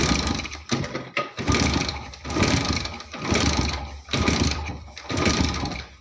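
A TVS XL moped engine, a BS6 fuel-injected model, runs after a kick start, chugging in a loud uneven rhythm with surging bursts roughly every second, close up.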